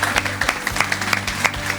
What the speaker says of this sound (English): Another round of applause for Joanne Venter